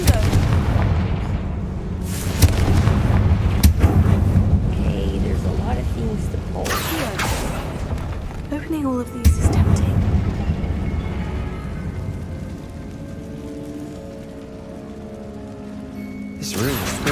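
Explosions from a Confringo fire spell boom in a wizard video game, several heavy blasts and rumbles with game effects around them, while a player's voice talks over parts of it.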